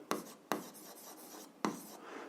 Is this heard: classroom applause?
no